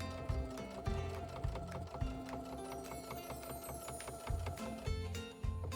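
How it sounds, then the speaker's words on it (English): A sewing machine stitching binding along the edge of a quilt, running in bursts of fast mechanical needle chatter with brief pauses between runs, close and clear with no talk. "And then you're just going to pivot and continue sewing down the side."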